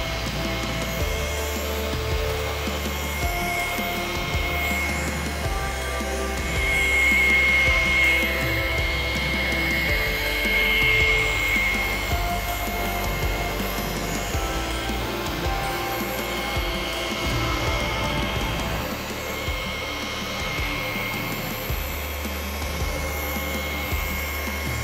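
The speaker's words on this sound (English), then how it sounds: "I'll just use the weight of the machine." A rotary polisher runs at low speed on soft car paint to remove holograms, giving a steady close motor whine with a hum underneath that swells slightly partway through, and no speech.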